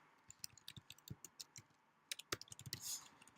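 Quick bursts of close keystrokes on a computer keyboard while code is typed, crisp clicks in uneven runs with short pauses between them.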